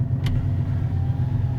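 A TVR Chimera 400 engine runs at a steady, throaty idle nearby, a low burbling rumble with one brief sharp click partway through.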